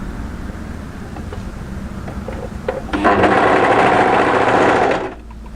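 A sewing machine stitches a pleated maxi wrap dress, a loud steady whir running for about two seconds after quieter handling sounds, then stopping abruptly.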